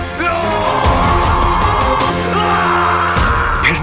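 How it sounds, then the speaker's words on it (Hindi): Dramatic scream-like cries and yells in a tense scene, loud and continuous across the whole clip, with a heavy layered bed of music or effects underneath and sharp bangs near the end. "ये चीखें सुनाई दे रही हैं।"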